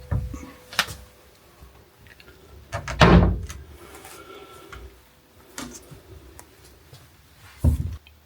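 Hotel room drawers slide and knock shut in a quiet room, with a few scattered thumps and one louder drawn-out scrape near the middle, all close and unhurried.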